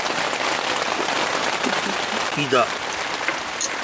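Rain pattering steadily on a campsite in winter, a constant dense hiss close by, with brief voices speaking over it.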